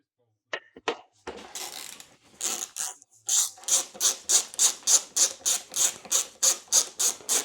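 A ratchet tightens an engine bolt on a Yamaha MT 125 motorcycle, clicking in a quick, even series of close strokes after a few scattered taps and rubs at the start.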